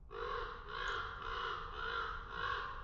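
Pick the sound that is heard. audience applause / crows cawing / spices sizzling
crows cawing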